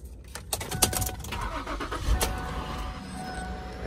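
A Ford Edge with about 200,000 miles cranks and starts, with a few sharp clicks and key jingles over a rising engine rumble close by that settles into a steady idle.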